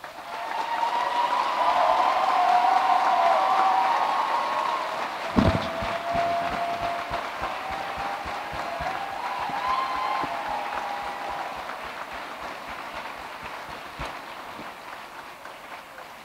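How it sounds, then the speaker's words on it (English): Graduation audience at an Arts and Social Sciences ceremony giving a hearty round of applause, a loud sustained wash of clapping that swells early, then thins and fades over about sixteen seconds, with a sharp knock partway through. "our graduates acknowledge the support with a hearty round of applause"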